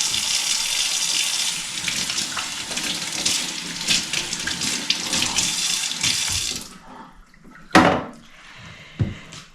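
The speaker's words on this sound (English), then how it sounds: "I'm just gonna rinse my hands." Water runs steadily from a kitchen tap into a sink as hands are rinsed beneath it, a broad hiss lasting several seconds before it shuts off, followed by a couple of sharp knocks nearby.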